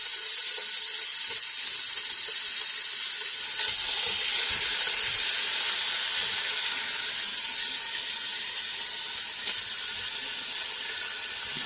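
Ground beef browning in a hot pan as it is broken apart for a Memorial Day cookout: steady loud hiss of frying with faint scraping and stirring, continuous throughout.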